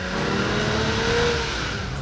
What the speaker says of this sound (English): A flat six is just one of the best sounding engines of all time.